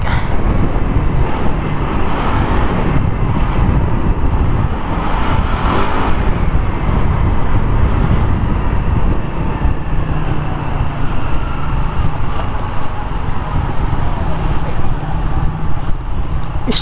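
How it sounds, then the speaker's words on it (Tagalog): Heavy road traffic heard from a moving motorcycle in Taiwan, a steady roar of engines and tyres mixed with wind buffeting on the microphone, loud and continuous throughout. "Traffic."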